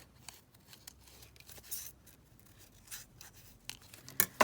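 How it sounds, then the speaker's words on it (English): Scissors roughly cut a paper piece out for a craft tag at a desk, making quiet, close snips and rustles that grow louder and sharper toward the end. "So just very roughly fussy cut this out."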